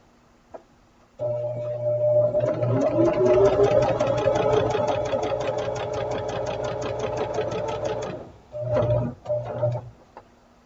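A sewing machine stitches a pressed quilt seam, its rapid mechanical ticking and motor hum running steadily for several seconds at close range, then stopping and restarting in two short bursts, with no talking.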